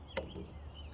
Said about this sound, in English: I'm cutting some of my frog tail off